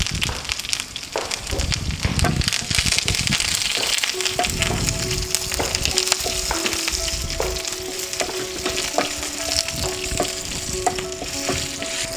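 Shallots, dried red chillies and curry leaves frying in hot oil as a tempering for Kerala sambar, a loud, constant sizzle with sharp crackles and stirring scrapes, close and without speech.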